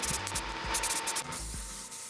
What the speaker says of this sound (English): So I hit the block with some rattle can white paint I found in the closet.